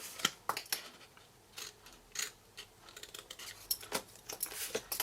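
Scissors snip repeatedly while cutting for a small succulent garden tent box, crisp close clicks and short cuts in an uneven rhythm, fairly quiet and without speech.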